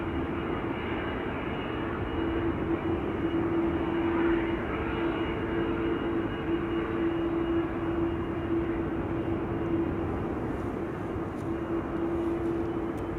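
A Royal Jordanian airliner approaching Amsterdam Schiphol Airport, a steady distant engine roar with a faint sustained hum, holding fairly level as it draws closer.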